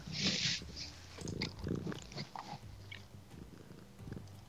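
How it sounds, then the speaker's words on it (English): A house cat purring up close, a low rumbling buzz in uneven pulses, with a brief hissy rustle at the start and soft snuffling noises mixed in. "Listen to that purr."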